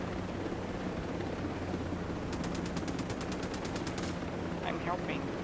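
Rapid burst of automatic gunfire in Ghost Recon Breakpoint, a fast run of evenly spaced shots lasting about two seconds over steady game ambience and background noise, with brief chirps after.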